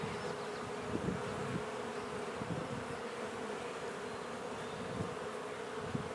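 A swarm of honey bees gives off a continuous, fairly faint buzzing drone with a steady pitch. Louder passes from individual bees rise and fade every second or so, and no one speaks.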